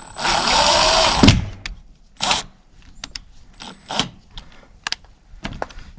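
A power drill or impact driver runs steadily for about a second as it drives a screw into red metal siding on a final exterior wall, ending with a clack. Sparse clicks and light handling knocks follow.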